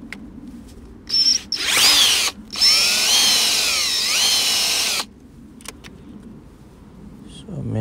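Cordless power tool driving out a bolt in the engine bay of a Toyota Auris/Prius hybrid during EGR valve and pipe cleaning: two close, loud whirring bursts of a few seconds each, with a short pause between them.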